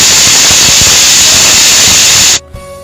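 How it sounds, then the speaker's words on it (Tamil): A mixer grinder runs loud and close, a dense steady whirring roar grinding roasted spices into powder for a mutton dish, then cuts off abruptly near the end. "அப்புறமா இதை ஒரு மிக்ஸி ஜாருக்கு மாற்றி அதை ஒரு நல்ல பவுடரை அரைச்சி எடுத்துக்கோங்க"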